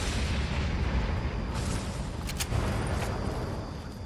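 A lightning strike in the Fortnite video game lands as a dense, sustained low rumble and crackle that fills the whole clip at steady loudness, with a brief sharp burst partway through.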